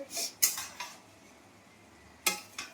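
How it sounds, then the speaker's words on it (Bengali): Metal spoon stirring prawns in a cooking pan, clinking and scraping in two short bursts separated by a quiet gap, close and fairly faint, with no talk. "চিংড়ি মাছগুলো এরকম করে দিয়ে দিতে হবে দিয়ে কি করব সুন্দর করে ধরে ধরে নেড়ে দিতে হবে"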